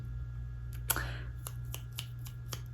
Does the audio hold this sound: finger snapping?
yes